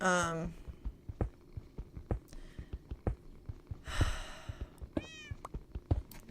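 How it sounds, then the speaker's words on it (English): A cat in a video game set inside a mountain meows loudly several times, once at the start and twice more later, over a steady pattern of soft footstep-like thuds. "that cat is so freaking loud."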